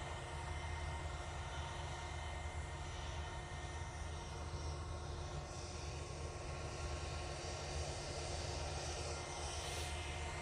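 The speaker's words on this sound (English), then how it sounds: "Next in, Ethiopian 787-8 Dreamliner." An Ethiopian Airlines Boeing 787-8 Dreamliner arrives at Manchester Airport, its steady engine roar and broadband rush holding at a moderate level throughout with no talk.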